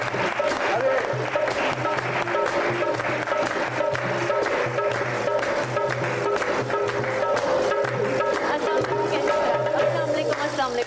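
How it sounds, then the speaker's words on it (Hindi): A studio audience applauds as guests arrive on a talk show, a dense steady clapping over background music with a low hum, continuing for about ten seconds. "तालियां"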